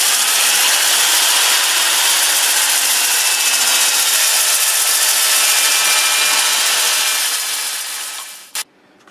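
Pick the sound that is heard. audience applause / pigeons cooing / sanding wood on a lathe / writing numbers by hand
sanding wood on a lathe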